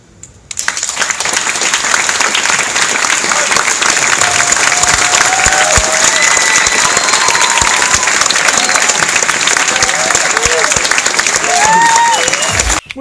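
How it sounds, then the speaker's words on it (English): An audience at a talk held in YouTube's offices claps as hard as it can, producing a loud, sustained burst of applause that lasts over ten seconds, with scattered cheers and whistles above it. "I want you to clap your hands as hard as you can."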